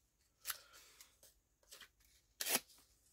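A paper sign is torn from a notebook in a few short, crisp ripping bursts, close and fairly quiet, with the longest tear near the end and no talking.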